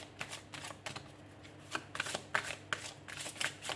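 Fairy oracle cards are shuffled for a cartomancy reading, giving soft riffling bursts and flicks at an uneven rhythm, close by and fairly quiet.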